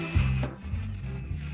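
A saw cutting through wood while building a wooden stand: steady, rasping back-and-forth strokes run continuously through a short stretch, fairly close, with no voices.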